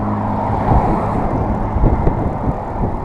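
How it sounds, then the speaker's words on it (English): A big BMW K-Series touring motorcycle going by on the road, a steady broadband engine and tyre rumble that stays fairly even and loud throughout, heard from a nearby roadside. "big K-Series touring bike from BMW"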